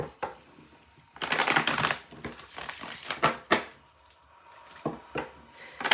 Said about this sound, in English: Every time I cut the deck and shuffle